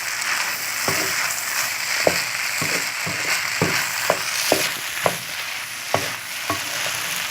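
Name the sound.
stirring noodles with spices and ingredients in a frying pan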